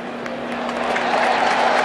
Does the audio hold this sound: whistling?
no